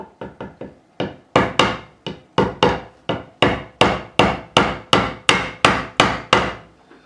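A nylon-faced hammer taps a fret into the fretboard of an Ernie Ball Music Man Silhouette guitar during a refret. About twenty sharp, close knocks come at first in a quick cluster, then in a steady, evenly spaced series.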